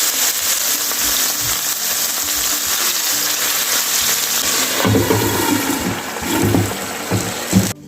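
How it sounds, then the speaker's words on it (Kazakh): Meat fries in hot oil in a pan, giving a loud, steady, close hiss and sizzle that turns into bubbly crackling toward the end. "Етіміз қызарып, қуырылып бастады."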